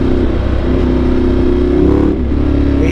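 Ducati Multistrada 1200 Enduro motorcycle engine revving loud and close, a dense continuous roar with a slight rise and fall in pitch throughout.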